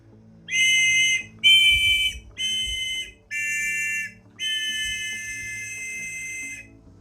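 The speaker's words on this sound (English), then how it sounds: "Blow 3 adjacent pipes at once and you get a chord." A bright, reedy 3D-printed card-sized multi-pipe whistle sounds five sustained chords in a row, three adjacent pipes blown at once, each a steady blend of several pitches, separated by short breaths.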